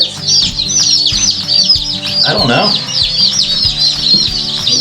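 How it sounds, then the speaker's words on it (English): Young chicks from a Cackle Hatchery shipment peep in a dense, continuous chorus, joined by occasional lower clucking sounds, close and loud throughout, with a brief voice speaking partway through. "so we got 49 chicks, 2 turkeys, and 2 ducks"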